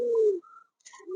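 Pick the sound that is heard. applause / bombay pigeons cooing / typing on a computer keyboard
bombay pigeons cooing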